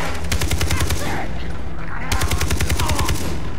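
Automatic weapons fire in the video game Far Cry 3, loud and close: a rapid volley of rattling shots, a short pause, then a second sustained burst.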